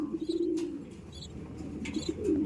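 Young crested pigeons cooing in a loft, a low steady coo running throughout with faint chirps and small rustles, close and moderately loud, with no talk.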